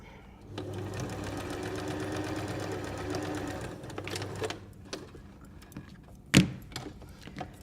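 Sewing machine top stitching along both sides of a fabric cutlery pouch, a steady whirring run for about three seconds, then stopping, followed by a few short handling knocks and a sharp click.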